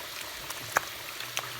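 Water with chicken and spices for maqluba bubbling and popping in a pot, with scattered small pops and one louder burble over a quiet steady simmer.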